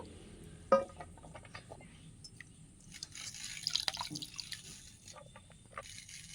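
Water dripping and trickling off chopped banana stem as it is lifted from its soaking water and drained onto a plate in a home kitchen; faint, scattered drops and small splashes with soft handling noise.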